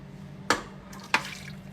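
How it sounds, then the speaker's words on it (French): Water poured into a pot of tomato bolognese sauce with fresh tomatoes: two short splashy pours about half a second apart, each fading quickly, over a low steady hum. "Et on ajoute un peu d'eau"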